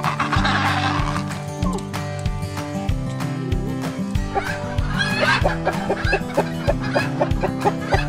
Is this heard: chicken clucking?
yes